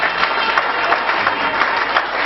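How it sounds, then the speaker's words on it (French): An audience at the Trophée Kongo award ceremony claps in a dense, steady burst of applause, loud and continuous throughout. "Madame, monsieur, est-ce qu'on peut l'applaudir s'il vous plaît?"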